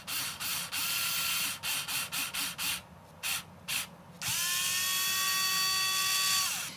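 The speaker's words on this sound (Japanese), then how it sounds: "このステアリングロッドの左右のこのネジ穴に、DS24 のネジを使ってネジ山を作っておいてください。" A DS24 screw is driven into the screw holes of a model Aston Martin DB5 steering rod to cut threads. A close, small motor whirs in a string of short bursts and pauses, then holds a longer, steady whine.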